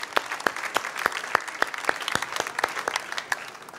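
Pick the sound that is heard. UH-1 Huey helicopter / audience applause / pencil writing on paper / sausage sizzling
audience applause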